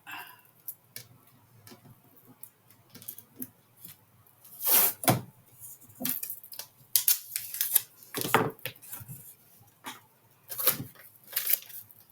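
Paper trimmed for a hard cover journal: scattered close snips and ticks with several louder cutting bursts and rustles spread unevenly, quiet between strokes and with no voices.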